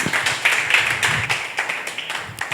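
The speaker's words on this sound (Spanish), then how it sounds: "Denle un aplauso al Señor, gloria a Dios." A church congregation claps in praise, a close run of uneven hand claps with a few louder strikes, the clapping thinning out toward the end.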